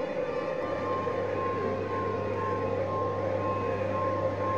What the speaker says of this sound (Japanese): パトカーが来た。